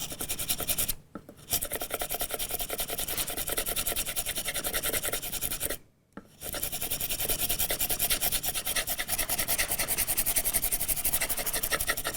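A blade bevel is honed with oil on a 1200 grit Jarrod hone, producing close, rhythmic back-and-forth gritty rasping strokes with two short pauses, no talking.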